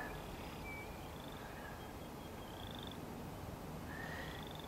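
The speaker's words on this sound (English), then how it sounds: "Can hear the chorus frogs in the back." Male chorus frogs call for mates in the distance, repeated rising creaky trills spaced a second or so apart over a steady faint hiss of background noise.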